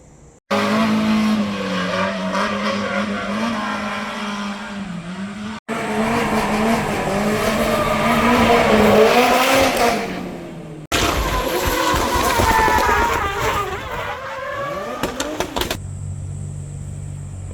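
Race car at Meihan Sportsland track, tires squealing through a long loud skid in several bursts, engine roaring close by, with no talking.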